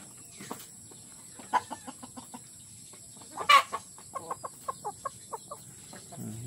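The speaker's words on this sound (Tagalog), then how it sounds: "Mababait po yung mga manok kong." Chickens clucking in short bursts, a series of quick clucks with a louder squawk midway, close by with no talking.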